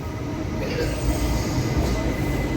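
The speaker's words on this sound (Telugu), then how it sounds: "నల్లగొండ స్టేషన్ మెయిన్ ఎంట్రీ దగ్గర ఆగిందండి మా కోచ్." The Palnadu Express rolls to a halt at Nalgonda station, giving off a steady low rumble of rail cars with faint wheel squeal and hiss, close and continuous.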